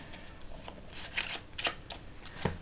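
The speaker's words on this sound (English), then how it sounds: "they can shuffle their packets up, like so" A few quick papery riffling bursts, close and crisp, separated by short pauses, like cards being shuffled by hand.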